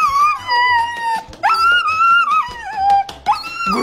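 A dog howls and whimpers on a roller coaster, its long wavering cries rising and falling close up and loud, broken by brief yips and gaps across several seconds.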